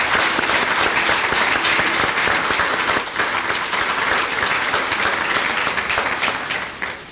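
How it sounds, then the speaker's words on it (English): Sustained applause from a seated audience at a 1991 academic articulation conference, a dense, even roar of many hands clapping at once, holding steady before thinning slightly at the end. "I'd like for us to give them a round of applause"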